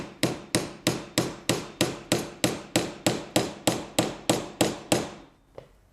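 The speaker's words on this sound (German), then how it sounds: "Jetzt brauche ich das Ganze nur noch hier drauflegen und mit dem Hammer draufschlagen." A hammer strikes a homemade wooden marking gauge in a quick, even series of about fifteen sharp, close knocks, each decaying briefly, followed by a faint final tap.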